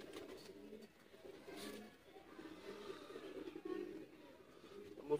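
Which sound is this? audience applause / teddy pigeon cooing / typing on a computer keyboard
teddy pigeon cooing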